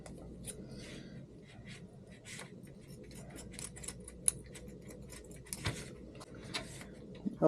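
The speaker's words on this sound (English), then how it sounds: "So, you cut off the string." Scissors snip through the string on a wrapped food package, a handful of short crisp cuts and rustles close by against a quiet room, with no talking.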